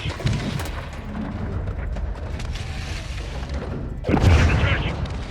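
RPG explosions in the video game Modern Warfare 2 Remake, heavy booms over a dense bed of gunfire and rumble, with a big blast near the end.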